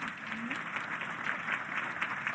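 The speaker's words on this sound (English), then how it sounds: "Clap it up for Dr. Esser there" A crowd applauds in a steady, sustained burst of clapping, fairly close and even in level, with a brief voice sound near the start.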